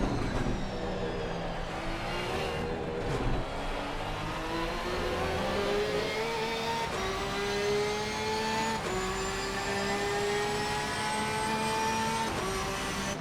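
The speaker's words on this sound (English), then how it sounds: "What a sound that is from the Porsche." A Porsche GT race car engine roars in a sim racing league event at Zolder, a continuous loud wail climbing through gears with short shift breaks, heard alone without commentary.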